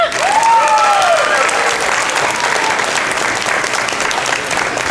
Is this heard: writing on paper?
no